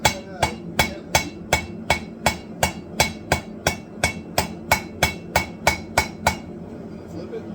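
A hammer strikes a San Mai paring knife blade during forging, about eighteen evenly spaced, ringing metallic blows at a steady quick rhythm, close and loud, ending in a quiet tail.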